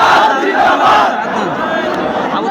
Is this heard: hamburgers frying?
no